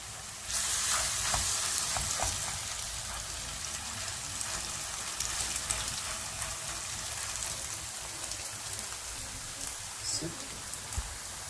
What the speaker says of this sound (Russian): Жарим в подсолнечном масле.